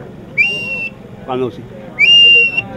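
Two sharp, high rising blasts on a handmade bird lure whistle, blown as if for distance, ring out with a brief spoken word between them, loud and close.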